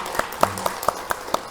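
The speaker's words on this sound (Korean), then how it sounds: "우리 채민이 우리 청년들 우리 박수 한번 치겠습니다" Six sharp, evenly spaced claps in a church gathering, a small group clapping together in a slow steady rhythm at close range.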